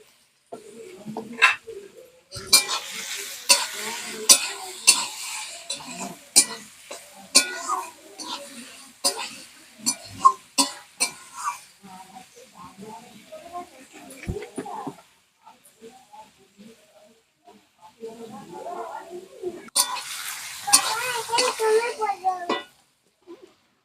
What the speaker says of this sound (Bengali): নুন দিয়ে তাড়াতাড়ি করে পেঁয়াজগুলো ভাজা হয়ে যায়